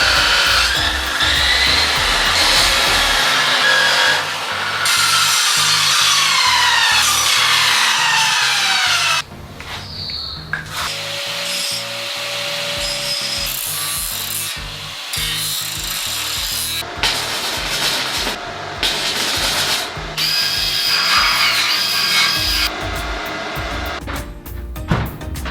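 Metal plates for a garage slope frame being cut with a power tool, a loud continuous grinding-saw whine with shifting pitch and brief pauses, close by and with no talking.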